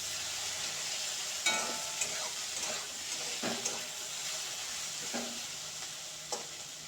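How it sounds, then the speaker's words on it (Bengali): Potatoes frying in a pan after being covered and steamed, stirred with several distinct scraping strokes over a low, steady sizzle, close and fairly quiet. "নেড়ে দেবো একটু।"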